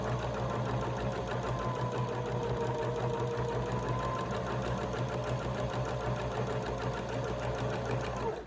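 A sewing machine runs steadily while stitching a fabric mask along a straight edge, with a fast, even mechanical chatter that carries on unbroken from start to finish.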